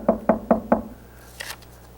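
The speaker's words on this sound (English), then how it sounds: "there was a knock on the door" Four sharp knocks on a wooden door in an even, quick rhythm, close and clear, followed by a short faint rustle and then quiet.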